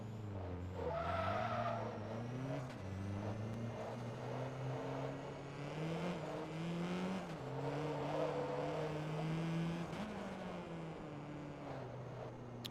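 A race car engine in the game Forza Motorsport 2, sounding like an SR20, drones and revs through gear shifts, pitch climbing and dropping repeatedly, with tire squeal at times, steady and fairly close.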